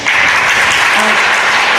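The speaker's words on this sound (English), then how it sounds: "I think y'all need to clap a little bit more." A crowd at a sickle cell disease policy advocacy summit breaks into loud, dense, sustained applause that fills the room evenly throughout.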